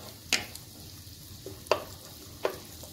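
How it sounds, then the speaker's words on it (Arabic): Garlic browns in a pan over a faint, quiet sizzle, broken by a few distinct scrapes of a spoon at uneven intervals. "انا نخليوها تشحر مزيان، هي قد ما كتشحر هي كتلقى الذوق ديالها الثومة"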